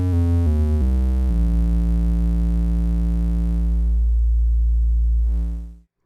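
Output from a Q155 Curver synth module plays a peaky waveform: a sustained buzzy electronic tone that steps through a few pitches, then holds one note steadily before cutting off.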